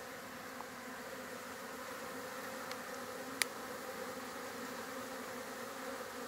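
Honey bees buzz busily around their hives on an active morning while foragers carry in pollen, a steady, dense hum with no voices and one brief sharp click partway through.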